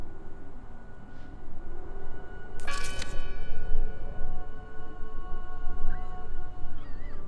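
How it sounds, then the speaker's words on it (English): A single church bell in the video game Draugen strikes once, ringing out with a long fading tone over a steady background of rustling ambience. "Listen! The bell! They're still in there!"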